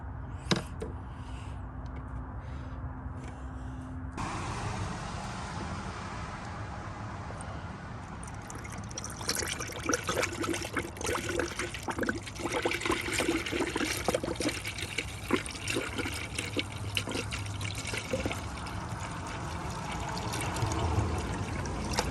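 Engine coolant from a 1998-2007 Lexus LX470 / Land Cruiser 2UZ-FE drains through a funnel into a bottle, heard as a steady, close liquid trickle and pour that picks up after a few quiet seconds and runs on continuously.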